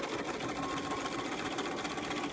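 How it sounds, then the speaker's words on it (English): A sewing machine runs continuously while stitching a rolled hem in fabric, a steady fast mechanical whir and rattle, close and even throughout with no talk. "Press your foot down, continue stitching."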